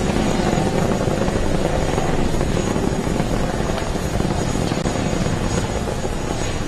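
A SpaceX Falcon 9 rocket climbs on its nine Merlin engines, a loud, continuous, broadband roar that stays dense and steady throughout with no speech over it.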